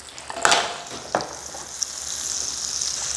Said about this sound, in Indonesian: Nah ini kita tumis. Bumbunya banyak ya tuh.